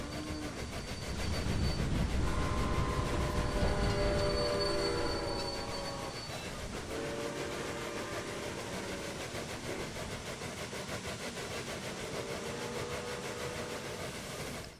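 A train pulls away from a station in the Railway Empire video game, starting with a loud rumbling roar and squealing wheels, then settling into a steadier rolling clatter with a horn-like tone. No voices are heard.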